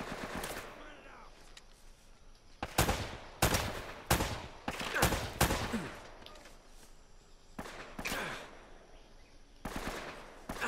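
Bursts of gunfire in the video game Uncharted: Drake's Fortune, sharp rapid shots fired in clusters with pauses between them, fairly quiet overall.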